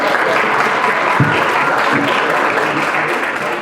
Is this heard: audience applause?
yes